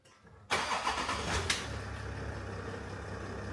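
A Range Rover hybrid cranks and fires with the key, the engine catching abruptly and then settling into a steady, close idle with a brief clunk early on; no one speaks.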